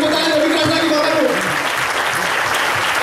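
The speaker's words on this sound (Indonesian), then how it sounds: "Ayo, tepuk tangan lebih keras lagi Bapak Ibu." An audience claps loudly and continuously at a seminar welcoming a speaker, dense sustained applause filling the room while a host's voice speaks over it.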